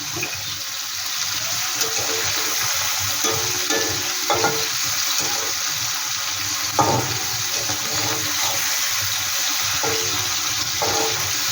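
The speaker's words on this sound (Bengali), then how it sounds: "কাসকি মাছটা কিন্তু ভাজতেও বেশি সময় লাগবে না, ভাজাটা কিন্তু খুব সুন্দর হচ্ছে।" Small kachki fish fry in a pan, giving a steady, fairly loud sizzle with occasional pops and crackles throughout and no voices.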